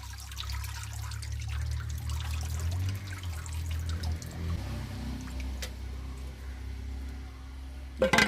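Dark, discoloured water is poured off a container of soaked coir pith, a steady close trickle over a low rumble with no voices, ending in a brief louder splash.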